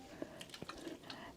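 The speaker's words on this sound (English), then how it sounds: "And you pour water in the saucer." Water trickles and splashes softly into a saucer filled with rocks, light drips and small gurgles spread over a moment, close but faint.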